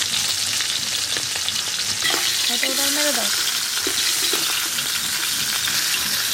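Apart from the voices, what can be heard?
hilsa fish heads frying in oil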